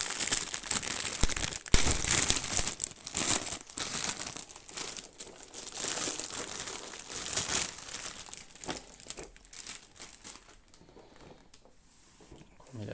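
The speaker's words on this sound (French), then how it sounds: "C'est du déballage." Plastic and paper packaging crinkles and rustles in close, irregular bursts while a Star Wars model ship is unboxed, quieting toward the end.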